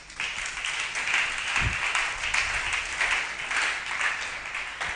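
A church congregation claps and applauds together in a dense, sustained wash of hands, fairly loud and continuous, with a low thump partway through.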